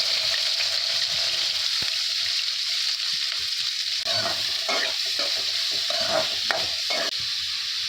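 Onions tossed into hot oil with cinnamon, cloves and cumin give a dense, steady sizzle and hiss, with scattered stirring scrapes and clicks in the second half, close and loud, with no speech.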